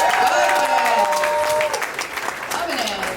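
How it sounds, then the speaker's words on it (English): A crowd at a birthday comedy show gives a short round of applause for the birthday girl, clapping mingled with cheering voices and chatter throughout. "can we give another round of applause for the birthday girl?"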